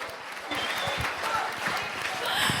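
Audience applause at the 32nd Daesan Farming Award ceremony in 2023, steady clapping from a large seated crowd that fills the room and stays level from start to finish.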